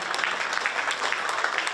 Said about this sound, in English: Ladies and gents, please a massive round of applause for both of these two teams here for a fantastic game of rugby